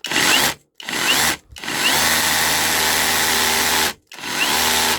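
A battery-powered cordless angle grinder, tested on a cold outdoor day, spins up in three short bursts, then in a long steady whine, before stopping and starting again, loud and close.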